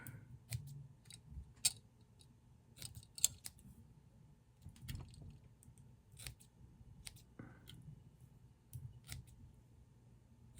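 Small scissors snip fly tying fibers on a streamer fly, a series of quiet, irregular sharp clicks and cuts against near silence.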